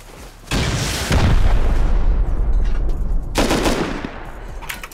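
A loud, close explosive blast booms in the survival game Rust, followed by a sustained rumbling roar and a second heavy burst, with crackling debris trailing off at the end.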